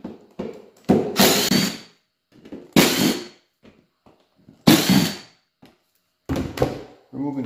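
A power driver whirs in short bursts as it backs out the four screws holding the air filter cover on a Yamaha Big Bear 350 ATV, four separate loud close runs with quiet gaps between them.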